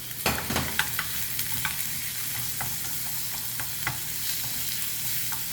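Shrimp stir-fried for pad thai in a pan, with a steady low sizzle and repeated scraping, clacking stirs of a utensil against the pan at an irregular pace, close by, with no talking.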